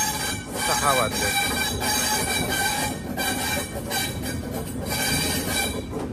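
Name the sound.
train running on rails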